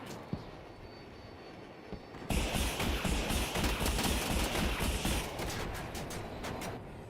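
Jet afterburner roar in the video game Battlefield 2042, a loud sustained rumbling blast that bursts in after a couple of seconds of quieter engine hum, with rapid crackling gunfire-like bursts over it.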